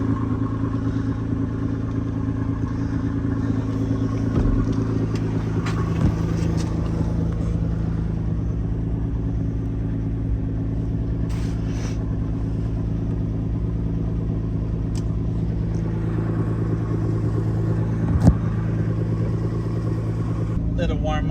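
A Nissan R35 GTR engine idling steadily while warming up, a loud continuous low rumble heard close by with no change in pace, and a few faint clicks and knocks over it.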